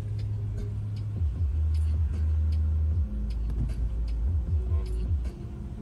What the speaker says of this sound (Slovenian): Budget 335T drift car.